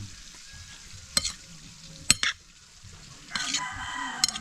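Food fries in a pan while being stirred, producing a soft sizzle broken by several sharp utensil clacks and scrapes against the pan and a brief louder burst of frying near the end.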